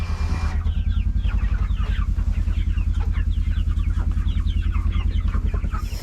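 Orpington chickens cluck and murmur as a flock close by on a homestead over a steady low mechanical hum. Their overlapping calls continue throughout.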